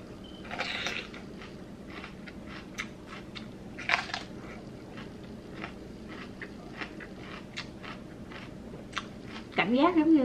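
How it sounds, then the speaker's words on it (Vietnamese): Someone crunches and chews raw bell pepper up close, with a series of soft, wet crunching bites spread irregularly over ten seconds, quiet overall, and a brief voice near the end. "Mà đúng rồi, mình đang nhai ớt chuông."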